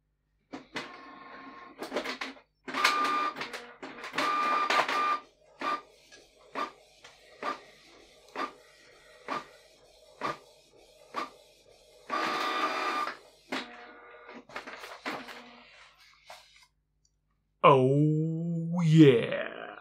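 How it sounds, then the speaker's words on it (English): A Canon MG5750 inkjet printer prints a nozzle check pattern: bursts of mechanical whirring from the print head and paper feed, separated by short repeated clicks and pauses. A voice is heard at the end. "Let's print a nozzle check pattern."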